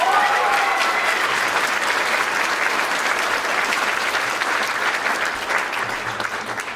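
A high school band concert audience gives sustained, even applause, a full, close wash of clapping that fades a little toward the end.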